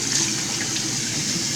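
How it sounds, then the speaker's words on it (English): Warm water runs steadily from a tap into a sink while a face is rinsed, a continuous close gushing hiss with no talk. "I'm rinsing with warm water because I want my pores to open up"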